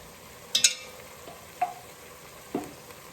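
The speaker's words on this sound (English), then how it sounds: "I'm going to add about a tablespoon of minced garlic." Minced garlic sautéing in a pan with onions and peppers for homemade chili: a faint low sizzle broken by a few sharp clinks and scrapes of a utensil, close by.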